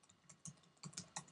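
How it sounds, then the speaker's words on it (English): A password being typed on a computer keyboard: a handful of quiet, close key taps spaced irregularly, with no other sound around them. "I'm going to put in my login and password in this box."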